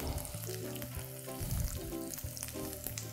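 Hot oil crackles and sizzles as chopped tomatoes hit the pan, with a few stirring scrapes; no talking.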